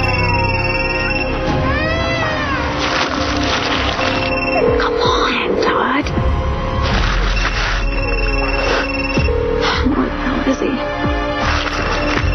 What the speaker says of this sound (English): Come on, pick up the phone,